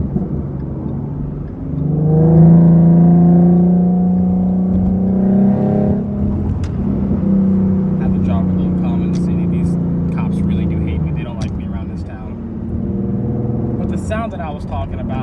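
A Ford Mustang with a 3.7 engine and Reaper exhaust, heard from inside the cabin, drones and revs up in several swelling pulls, with a voice talking over parts of it.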